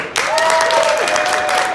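A concert crowd at a show at Marscon 2018 in Minnesota bursts into loud, dense applause that starts abruptly and holds steady throughout, with a sustained whistle or cheer riding over the clapping.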